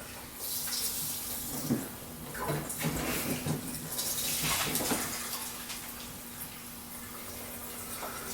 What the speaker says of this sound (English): first gas I'm pouring in here